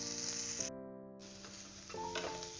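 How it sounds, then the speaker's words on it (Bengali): Indian gooseberries (amla) are lightly fried in a pan for pickle, giving a soft, steady sizzling hiss, joined by sustained tonal notes that drop out briefly and then return. "এবার আমি এটাকে হালকা করে ভেজে নিচ্ছি।"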